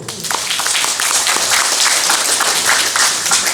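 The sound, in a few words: audience applause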